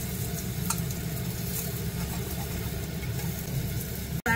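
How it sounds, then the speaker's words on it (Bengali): Crushed ginger and garlic fry in oil in a pan, giving a steady close sizzle over a low rumbling hum, ending with a brief clatter and dropout. "আমার আদা রসুনটাও ভাজা ভাজা হয়ে গেছে"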